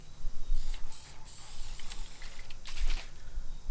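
Graffiti Remover sprays from an aerosol can onto a cheap Gammon drum kit in short hissing bursts, three quick spurts, a pause, then another burst, close up.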